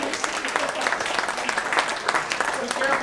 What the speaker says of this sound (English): Give them a big round of applause as they join us on stage.